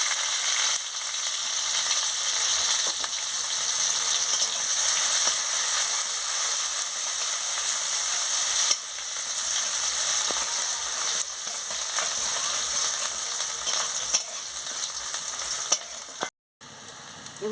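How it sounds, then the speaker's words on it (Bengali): Chopped onions fry in hot oil with dried chillies in a pan, a steady loud sizzle running throughout with faint stirring scrapes, briefly cutting out near the end. "এবার আমি পেঁয়াজ কুচিটাও দিয়ে দিচ্ছি, দিয়ে ভালো করে ভেজে নিচ্ছি।"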